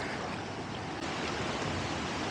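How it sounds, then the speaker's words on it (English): Waterfall on the Bronx River roaring as a steady, dense broadband rush of falling water, continuous and fairly loud throughout with no voices. "I definitely hear the waterfall"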